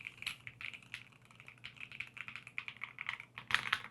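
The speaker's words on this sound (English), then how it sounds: "So a typing test will hear." Quick bursts of typing on an Asus ROG Azoth X gaming keyboard, close up and soft, with crisp keystroke clacks in an uneven rhythm and a heavier cluster of strikes at the end.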